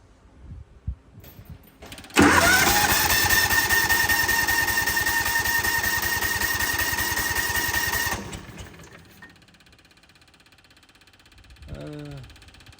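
A John Deere Gator 6x4 two-cylinder engine running on only one cylinder is cranked over, giving a loud, steady mechanical whirring drone for about six seconds that then stops abruptly, followed by quiet.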